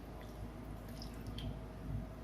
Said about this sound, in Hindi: इसमें थोड़ा सा पानी डालिए ताकि अच्छे से